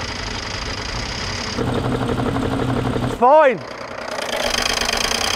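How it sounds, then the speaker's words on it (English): A BMW engine runs at idle with no oil, a loud, close, rough hum with a knocking rattle that steps louder partway through, while a voice briefly speaks over it. "Let me just have a listen to the BMW."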